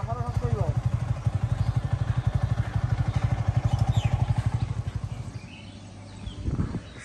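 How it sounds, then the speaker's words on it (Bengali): A motorcycle on a hill road putters with a rapid steady engine pulse up close, then slows and fades as it is brought to a stop, with a voice heard near the end. "সব পোলাপেন এখানে আমরা বাইক রাখি"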